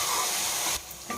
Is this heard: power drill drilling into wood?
no